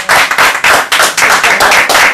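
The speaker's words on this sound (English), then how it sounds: "A good round of applause for the Wrecking Crew." A round of applause rings out in a room, loud and close with distinct rhythmic claps in quick succession, sounding like a modest group clapping together.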